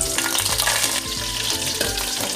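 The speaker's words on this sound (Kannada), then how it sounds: "ಬೆಳ್ಳುಳ್ಳಿ ಮಾಡ್ದ ಒಗ್ಗರಣೆಗೆ" Loud, continuous sizzling of garlic frying in hot oil, close up, with a few light scraping sounds of stirring.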